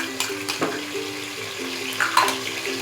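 Ginger garlic paste frying in a pan for chicken masala biryani, a steady close sizzle broken by scraping stirs and a few louder clinks, with no talking.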